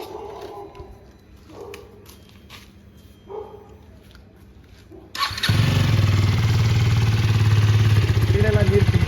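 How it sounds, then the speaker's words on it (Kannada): After a foam wash, a motorcycle sits quietly with faint background sounds, then its engine suddenly starts. It settles into a loud, steady, close-up idle that runs to the end. "ಚೂರು ಗಾಡಿ ಆನ್ ಮಾಡಿಬಿಡೋಣ"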